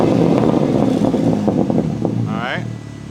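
BMW M3 in Nardo Gray fitted with an aftermarket valved exhaust, revving loudly up close, a broad engine roar with a rising whine near the end, heard over voices talking.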